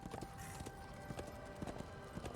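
Horse hooves clip-clop in the Xbox 360 game Darksiders II, a quiet, even trotting rhythm with no voices over it.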